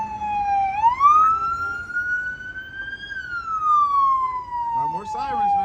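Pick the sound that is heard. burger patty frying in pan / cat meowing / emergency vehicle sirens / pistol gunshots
emergency vehicle sirens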